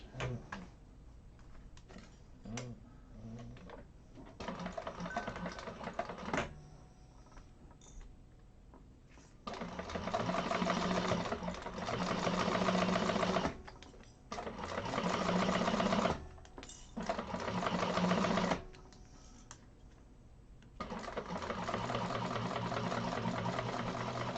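A sewing machine chain-stitches handbag pieces, running in several bursts of rapid mechanical stitching separated by short pauses and quieter handling, fairly close and without talk.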